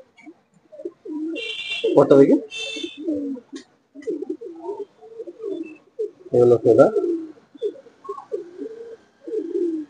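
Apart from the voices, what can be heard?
pigeons cooing in a loft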